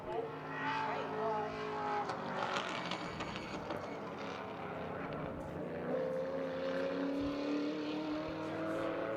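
BMW E36 M3 race car lapping Buttonwillow Raceway during a time-attack season finals event, a steady loud engine drone with shifting pitch, accompanied by talk and crowd-like background noise.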